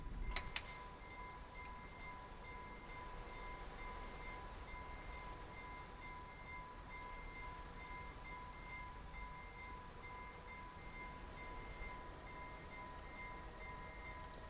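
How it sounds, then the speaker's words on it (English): A train rolls past at a level crossing, a steady broad rumble with sustained tonal whines, likely the crossing bell or wheel squeal, continuing throughout with a brief horn-like burst near the start. "I hear it. I hear another train."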